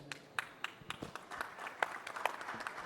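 Sparse, quiet applause from an audience at a Brazilian insurance brokers' congress, a scattering of distinct individual claps rising slightly toward the end, faint and somewhat distant.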